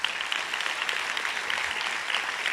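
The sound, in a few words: audience applause at lecture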